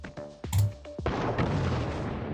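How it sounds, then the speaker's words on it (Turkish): Gas canister shot and exploding in the video game Johnny Trigger: a couple of sharp shots followed by a booming burst that settles into a rushing rumble, brief and fairly loud. "şu benzin Bak. benzin bidonuna. Patlat."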